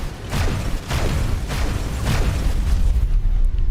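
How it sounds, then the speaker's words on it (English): Ship engine explosion in the space game X4, a series of deep booming bursts with rumbling low end, repeating roughly every half second before settling into a sustained roar. "Explosion imminent."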